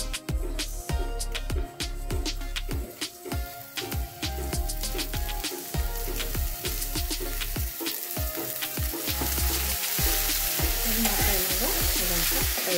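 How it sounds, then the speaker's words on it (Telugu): Dried shrimp and green chillies fry on high flame in a pan, a loud continuous sizzle broken by dense, rapid spatula scrapes and knocks against the metal throughout. "హై ఫ్లేమ్లో పెట్టుకుని మనం ఇదంతా ఫ్రై చేసుకోవాలి"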